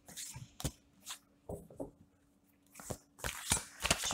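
Oracle cards are shuffled by hand for a reading, making soft, irregular papery bursts and flicks with short quiet gaps between them, close and fairly faint.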